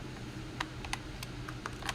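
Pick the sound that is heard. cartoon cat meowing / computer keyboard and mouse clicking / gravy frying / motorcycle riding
computer keyboard and mouse clicking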